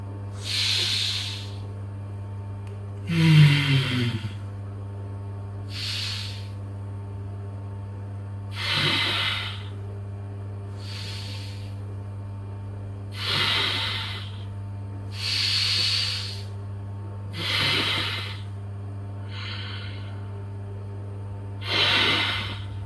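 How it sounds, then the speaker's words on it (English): Slow, deep breathing during a stretch, with about eight long hissing exhales at regular intervals of a few seconds each, close to the microphone over a low steady hum. "We're gonna take at least 10 full inhales and exhales, filling our lungs to their maximum capacity."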